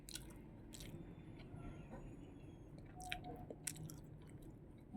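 Cheesy turon, a fried banana spring roll with cheese, being bitten and chewed close up, soft crunches and wet squishy chewing sounds over a low steady background hum.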